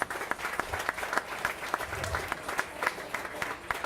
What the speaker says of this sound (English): Big round of applause for all of our team members.